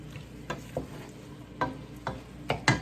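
Onion sautéing in a pot for ham and potato soup, a soft steady sizzle with several sharp utensil stirs and clicks against the pot, close and fairly quiet.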